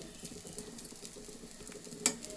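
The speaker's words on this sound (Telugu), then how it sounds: "వేసి ఈ పేస్ట్ కూడా కలిసేటట్టు ఒక్కసారి కలుపుకుందామండి" Eggplant pieces and spice paste stirred in a pan, soft faint sizzling with light scraping and stirring strokes and one sharper clink of a utensil near the end.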